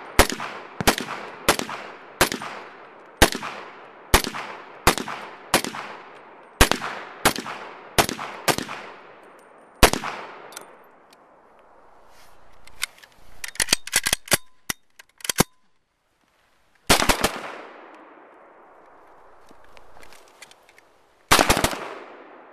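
An Israeli police tactical M1 carbine fired outdoors: a run of about a dozen sharp, evenly spaced shots, then a scattered burst of quicker rounds and a few final separate shots with short quiet gaps between them.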